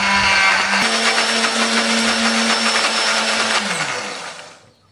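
A blender whirs loudly and steadily, its motor pitch shifting as it churns a thick spice paste with a little water, then winds down to a stop.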